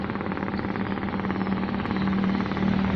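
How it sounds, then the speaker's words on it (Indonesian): A steady, low boat engine drone hums throughout at moderate distance, even and unbroken, like a motorboat running offshore at sea off Labuan Bajo. "Nah, ini sudah terdengar suara kapal mungkin ya."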